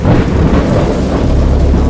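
Loud, continuous thunder rolls through a wild storm in the video game Dagon, a dense rumble mixed with heavy rain, filling the space without pause.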